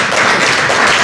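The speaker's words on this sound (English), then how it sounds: "Please, let's clap for them." Audience applause at a dialogue event with National Assembly members in Gambia, a dense, steady clatter of many hands clapping throughout, loud and close, with no voices over it.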